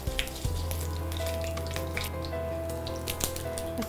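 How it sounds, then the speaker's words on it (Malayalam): Urad dal and chana dal fry in hot oil in a pan, giving a steady, close sizzle with faint crackles and occasional stirring clinks. No one speaks. "ഒരു ടീസ്പൂൺ കടലപ്പരിപ്പ് ഇതെല്ലാം ഒന്ന് ചെറുതായി ഒന്ന് മൂത്ത് വരട്ടെ"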